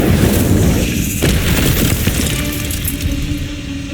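The Incendio fire spell in the Hogwarts Legacy video game bursts with a loud whooshing blast that crackles and fades over a few seconds, alone without speech.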